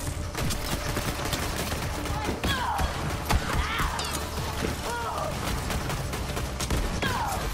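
Rapid gunfire bursts and explosive grenade blasts from the video game Borderlands 3, dense and continuous with a whistling effect, and a voice talking over the action.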